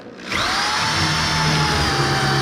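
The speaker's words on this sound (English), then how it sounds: "Start the drill bit once the drill bit is inside that hole." A power drill whirs up and runs steadily at high speed, loud and close, boring an angled pocket hole into wood with a Kreg jig.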